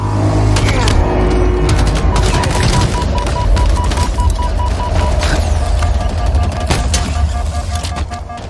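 Loud, dense gunfire in a video game battle, rapid bursts and overlapping shots with booming impacts and a vehicle engine droning underneath, continuous and close.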